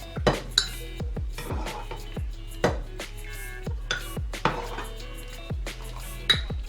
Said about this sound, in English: We are going to transfer it into a bowl like that.